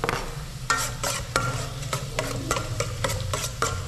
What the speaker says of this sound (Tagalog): Igisa natin si bawang.